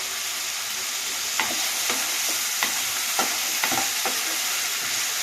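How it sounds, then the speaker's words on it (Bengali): Yardlong beans with shrimp frying in hot oil, a loud continuous sizzle broken by a series of sharp spatula scrapes and stirring clacks at irregular intervals. "কিছুক্ষণ সময় ধরে এটাকে ভালো করে মানে তেলটাকে খেজে নেবো আর এটাকে একটু ভাজা ভাজা করে নেবো"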